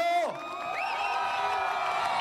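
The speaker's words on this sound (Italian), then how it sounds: "Eccola qui, che si merita l'applauso con l'urlo" A crowd in Treviso cheers for a woman, with loud whoops and rising shouted voices over a steady roar that carries on without a break.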